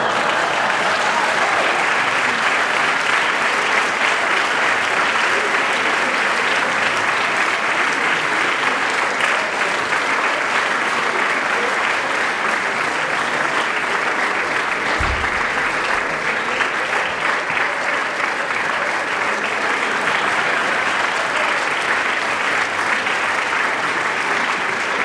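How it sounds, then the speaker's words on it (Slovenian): Audience giving loud, sustained applause, a dense, even wash of clapping that holds without pause throughout. "Me prav zanima, zakaj tak gromek aplavz?"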